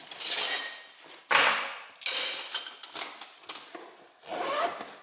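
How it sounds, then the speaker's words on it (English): Metal wrenches loaded one after another into a Rhino USA tool bag, close clinks and rattles in several bursts with rustling and scraping in between, and no talking. "So wrenches,"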